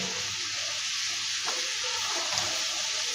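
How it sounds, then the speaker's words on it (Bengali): Chilli and spices fry and sizzle in a pan for chicken biryani, a soft, steady hiss with faint scraping as the mixture is stirred. "তো আমি এটাকে একটু নেড়ে দিলাম।"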